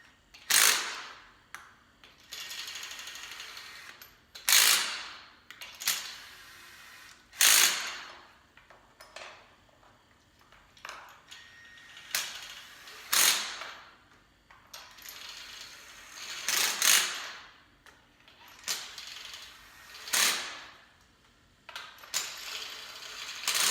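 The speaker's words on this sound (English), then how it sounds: "we spin it easy so we don't strip it, and then at the end we can tighten it a little bit" A ratchet wrench tightens a spark plug on a junkyard turbo Hemi engine, loud sharp clicking bursts repeating in short strokes with brief quiet gaps between each pull, close up and without talk.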